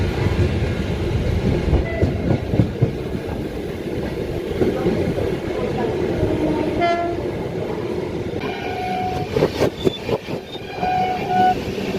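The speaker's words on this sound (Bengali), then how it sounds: "কিলোমিটারের জার্নি শেষ, ট্রেন ঢুকছে বর্ধমান" The 13151 Kolkata–Jammu Tawi Express rolls into Bardhaman station, a steady rumble and clatter of coaches heard from on board, with a horn sounding and wheel clicks growing sharper toward the end.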